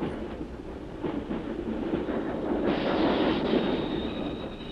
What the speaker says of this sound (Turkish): Treni durdurun.